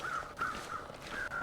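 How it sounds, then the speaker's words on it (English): Crows caw repeatedly in the survival video game The Long Dark, a series of short harsh calls in a cold, windy outdoor scene with steady background noise. "Crows are flying up there."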